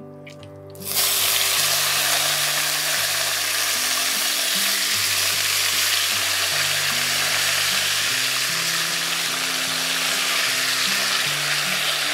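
Washed pumpkin leaves drop into a hot pan for a Bengali shrimp chorchori and set off a loud, steady sizzle that rises abruptly after a second, with a low stirring rumble beneath the frying hiss.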